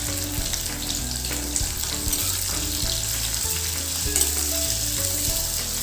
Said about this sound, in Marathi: हा कांदा आपल्याला छान सोनेरी रंगाचा होईपर्यंत तेलामध्ये परतून घ्यायचा